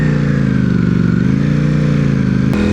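A V4 motorcycle engine runs with a steady, close, loud idle that holds evenly and then gives a sharp blip near the end. The note is a dense mechanical drone with no voice over it.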